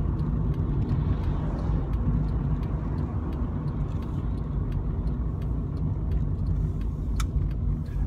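A car's engine and road rumble drone steadily and loudly from inside the cabin as it slows on a small slip road approaching a roundabout, with no talk.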